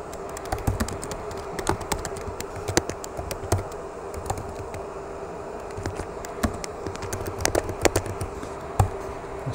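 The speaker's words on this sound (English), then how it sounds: "we're going to type that in" Rapid, irregular keystrokes on a computer keyboard entering an IP address while configuring an HPE Aruba 2930F network switch, crisp clicks close by over a quiet room hum.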